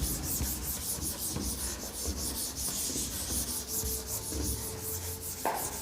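Writing is rubbed off a board with brisk back-and-forth strokes, a dry scraping rasp repeating steadily and close by, with no talking over it.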